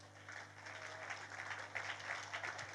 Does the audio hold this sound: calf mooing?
no